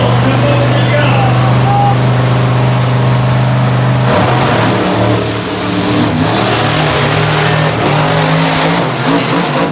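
Racing truck engine at a night track competition in Raleigh, North Carolina, revving loud and continuous, with a steady low drone that rises and roughens partway through, under an announcer's voice and crowd noise.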